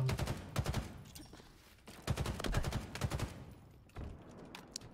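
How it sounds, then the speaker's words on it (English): Rapid bursts of gunfire from an online shooter game come in three clustered volleys of sharp cracks, loud and close, with short lulls between them. "Don't shoot me from across the map, you lunatic."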